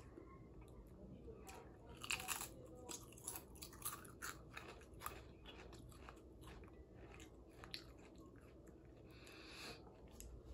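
Lay's crab-flavored potato chips being bitten and chewed up close, a run of sharp crunches clustered in the first half and scattered lighter bites after, over a low steady room hum.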